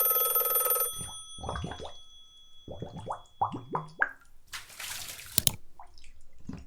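A landline telephone rings from down a hallway, its bell sounding as a few separated bursts with quiet gaps between them, followed by a brief splashy noise near the end, with no one speaking.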